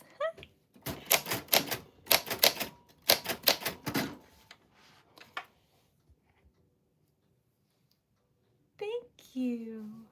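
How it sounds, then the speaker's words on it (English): Rapid bursts of key strikes and clacks from a Royal Arrow traveling typewriter, close and crisp, fill the first half, then the typing stops and a voice speaks briefly at the end. "This is a Royal Arrow typewriter."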